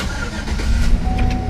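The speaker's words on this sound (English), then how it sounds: "car thieves don't even need a key to start the engine" Thieves start a car engine without a key, using a screwdriver: a loud, close mechanical churn and rumble turning into steady running, with no voices.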